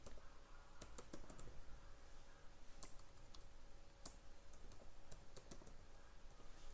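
Someone types code on a computer keyboard, producing a steady stream of close, crisp key clicks with occasional louder taps and no speech.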